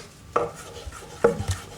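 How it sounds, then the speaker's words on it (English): A kitchen knife chops fresh flat leaf parsley on a board, a few sparse, sharp knocks spaced irregularly, close and clear with no talking. "so I want to chop into the sauce a little bit of fresh parsley"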